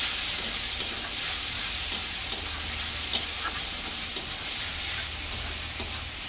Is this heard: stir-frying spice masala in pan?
yes